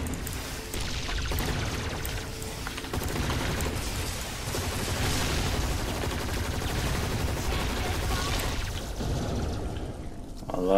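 Dense, steady gunfire from the online zombie shooter game M.A.R.S Online, with rapid shots blending into a continuous clatter over busy game noise for the whole stretch.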